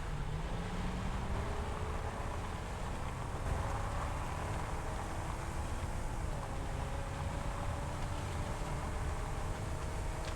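Continuous engine drone from machinery in the factory-building game Satisfactory, a steady broadband hum with faint rising and falling tonal whines running unbroken throughout.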